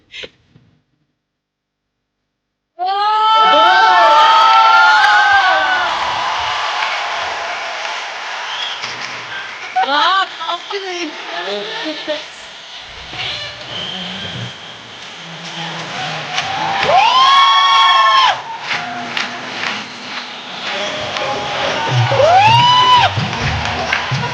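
Studio audience on an Indian comedy show with Govinda, bursting into loud applause mixed with cheering and whoops that swells and dips over about twenty seconds, with a few scattered voices and shouts riding over the crowd.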